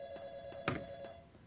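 Telephone ringing behind a door in a Gmod horror game, a short burst of bright electronic ring tone with a steady tonal hum underneath, moderately close and not loud.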